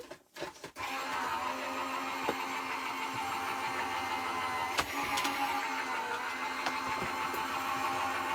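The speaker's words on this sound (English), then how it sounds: "I will pass that through my machine" Crafting die-cutting machine whirring steadily as it feeds a card piece through, a close continuous motor hum after a brief clunk at the start, with a few small clicks.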